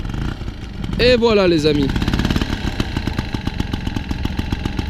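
A 1985 Motobécane 51 V moped engine sputters to life with a brief rising rev, then settles into a steady, rapid putter at idle nearby, with someone speaking briefly over it.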